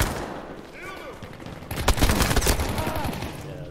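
Gunfire bursts in Battlefield V, including a sniper shot, crackling through a busy game mix with a sharp loud burst near the middle and sustained shooting afterward.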